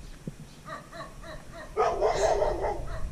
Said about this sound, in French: Regardez le gros chien là-bas.